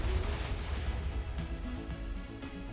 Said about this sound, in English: And that is the cannon firing.